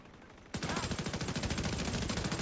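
Rapid automatic gunfire in a video game, starting abruptly after a brief quiet moment and continuing as a steady, loud stream of evenly spaced shots.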